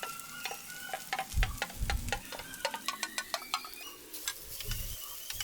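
A spoon scrapes and taps through okra curry frying in a pan, a quick run of sharp clicks and knocks over a soft continuous sizzle, close and without talk.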